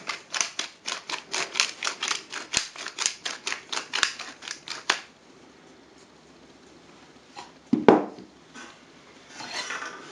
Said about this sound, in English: now we're going to take the pepper mill and put some fresh ground pepper on the top